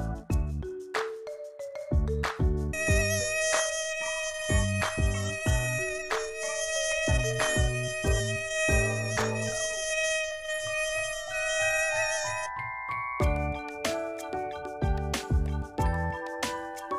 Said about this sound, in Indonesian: Nyamuk.